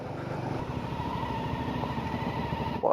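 A Honda motorcycle rumbles past on a cobbled street, a steady, pulsing engine note close by for a few seconds before a brief sharp noise at the end.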